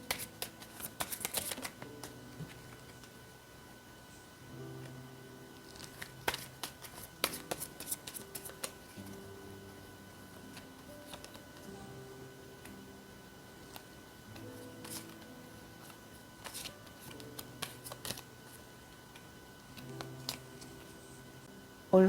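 Tarot cards are shuffled and handled close by in repeated bursts of crisp riffling and flicking, separated by softer sliding and tapping, with a quiet soft hum underneath.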